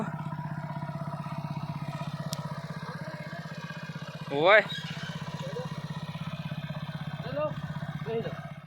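A motorcycle engine idling close by with a steady low throbbing pulse throughout, briefly rising in a short rev midway; someone speaks now and then over the running bike.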